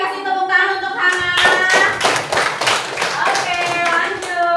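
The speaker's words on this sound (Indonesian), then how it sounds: "kasih tepuk tangan untuk Hana" Children in a classroom clap their hands together in a lively burst, with claps and young voices overlapping and singing or chanting throughout, loud and close.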